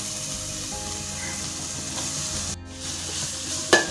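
Finely chopped large onions and garlic sautéing in hot oil for paneer pulav, a steady close sizzle with soft stirring scrapes, one brief break near the middle and a sharp clink near the end.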